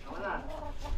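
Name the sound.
chicken clucking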